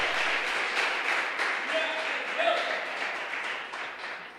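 A church congregation applauds, a broad, even patter of many hands clapping that holds steady throughout, with faint voices mixed into the crowd noise.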